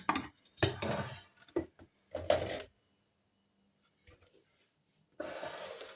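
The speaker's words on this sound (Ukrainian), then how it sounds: "я відправляю соду до нашого кефіра і все гарненько розмішую" Baking soda is stirred into kefir in a bowl, with a few quiet bursts of spoon scraping and clinking against the bowl separated by pauses, close and faint, with no voice.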